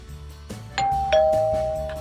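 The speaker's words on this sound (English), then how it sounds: "Oh, there's the doorbell." A doorbell chimes twice in a clear ding-dong, the tones ringing out and lingering over quiet background clatter.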